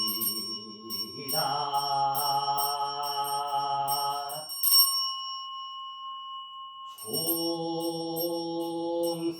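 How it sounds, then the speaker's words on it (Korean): A temple bell rings during a Buddhist memorial prayer at a temple's special prayer service. Two distinct strikes each leave a long, steady, resonant tone that hangs in the air, and no one speaks over it. "종소리"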